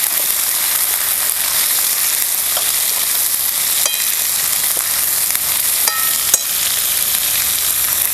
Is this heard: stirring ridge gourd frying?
yes